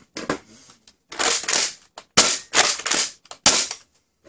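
A Nerf Pro Torrent blaster fires darts in a series of sharp, close snapping shots with short gaps between bursts, some coming in quick pairs.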